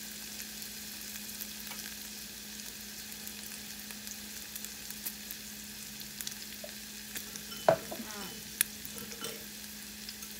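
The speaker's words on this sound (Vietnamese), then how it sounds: "Quậy lên rồi mình cho vô trong cái nồi này nha." A fish sauce, sugar and water mixture stirred in a small bowl for a Vietnamese shrimp and pork dipping sauce, with soft scraping swirls and a few light clinks over a steady low kitchen hum.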